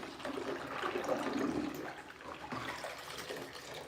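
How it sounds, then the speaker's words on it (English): Nebulizer parts are rinsed under warm running tap water, a steady, fairly soft hiss of flowing water that runs without break and with no talk. "You're going to rinse it off with warm water"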